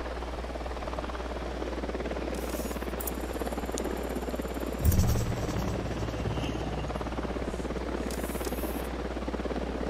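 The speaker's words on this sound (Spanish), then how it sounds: "Viene un helicóptero." Steady low rotor drone of a helicopter in the video game Tom Clancy's Ghost Recon Wildlands fills the whole stretch, with a brief thump midway and faint higher mechanical whines over it.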